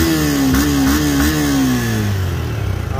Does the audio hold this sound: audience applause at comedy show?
no